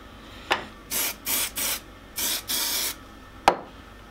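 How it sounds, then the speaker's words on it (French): An aerosol can of neoprene contact adhesive sprays onto wood in several short hissing bursts, close by, bracketed by sharp clicks at the start and end. "Je vais le précoller avec de la néoprène en bombe."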